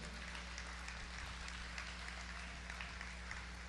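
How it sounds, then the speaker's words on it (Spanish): A church congregation applauds for the Lord at a Spanish-language service, steady dense clapping from many hands continuing evenly throughout, with a low hum beneath. "Démosle un aplauso al Señor, aleluya."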